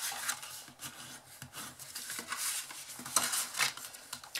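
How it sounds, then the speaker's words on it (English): Soft rubbing strokes of a tool burnishing the folded edges of a paper wrapper for a large chocolate bunny treat, quiet and close, in irregular repeated passes with no talk. "So we're just going to fold now all of these angles and give them a nice"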